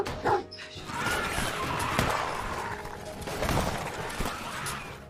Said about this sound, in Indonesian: si anjing malah menggonggong